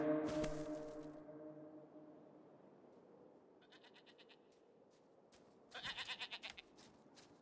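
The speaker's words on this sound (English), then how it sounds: "Sorry, little goat." A goat bleats after a low horn blast in a farmyard scene: a brief faint bleat midway, then a louder, quavering, pulsed bleat near the end.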